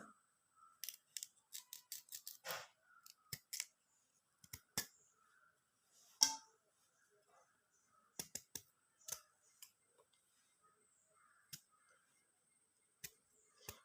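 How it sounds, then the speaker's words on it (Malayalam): Sharp, sparse snips and clicks of a knife or scissors cutting fruit peel into small pieces, short dry cuts in irregular bursts against near silence. "നമുക്കിനി ഇതിനെ ചെറുതായിട്ടൊന്ന് കട്ട് ചെയ്തിട്ട് കൊടുക്കാം"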